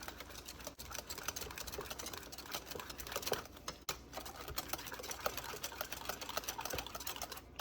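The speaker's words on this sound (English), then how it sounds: "Whisk it nicely." A hand whisk beats cheesecake batter with lemon zest and lemon juice in a bowl, producing quick, continuous light ticking and clicking against the bowl, close and fairly quiet.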